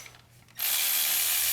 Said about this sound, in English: I'm gonna give you the ratchet, the electric ratchet